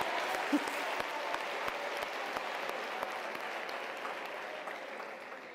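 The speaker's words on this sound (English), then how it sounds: "Let's give a round of applause to that." Audience applause fills a hall at a university spring graduation ceremony, a continuous wash of clapping at even, moderate loudness throughout, with a few sharper individual claps standing out.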